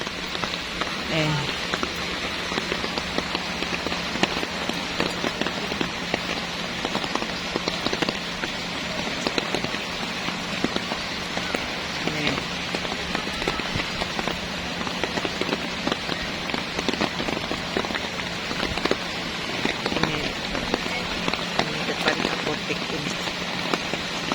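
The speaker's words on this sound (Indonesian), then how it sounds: "Ini posisi Jalan Nusantara, hujan deras tanggal 13 Februari ini." Heavy rain pours steadily on a flooded street in Makassar, Indonesia, a dense hiss of drops drumming on surfaces throughout, with faint voices under the downpour.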